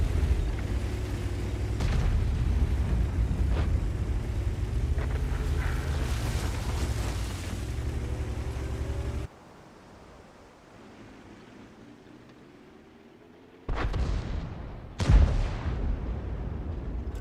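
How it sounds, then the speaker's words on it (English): An autoloader tank in World of Tanks fires as heavy booms. A rumbling stretch goes quiet, then two sharp, loud blasts follow in quick succession. "He's an autoloader, so he's gonna fire a bunch of rounds."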